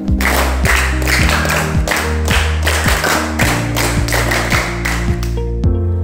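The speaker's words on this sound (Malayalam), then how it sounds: "ഇന്നിവിടെ പ്രസംഗിച്ച 1ാം സ്ഥാനം കരസ്ഥമാക്കിയ ധീരജിന് നല്ലൊരു കയ്യടി കൊടുക്കാം" An audience applauds the first-place winner of a speech contest, with steady, fairly loud clapping running throughout over a low sustained hum, then tapering off at the end.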